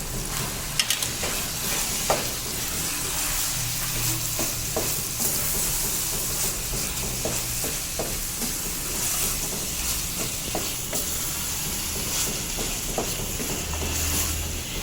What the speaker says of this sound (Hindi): ये देखिए, मैंने अच्छे से मिक्स कर लिया है, प्याज हरी मिर्ची वगैरह सब डाल के।